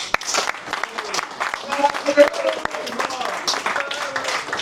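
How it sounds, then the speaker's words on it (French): An audience applauds an engineer's pitch at a jury coaching session, scattered clapping close by and mixed with talk from people in the room. "Donc Cabré, on applaudit pour toi"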